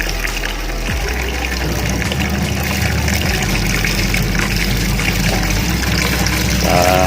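Water pours steadily into the tub of a Khind semi-automatic washing machine, a loud, continuous gushing rush with a low pump-like hum underneath, close and unbroken throughout.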